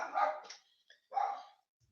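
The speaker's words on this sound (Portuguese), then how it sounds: "Vocês me desculpem, tem um cachorro latindo aqui" A dog barks twice nearby, two loud separate barks about a second apart, each followed by quiet.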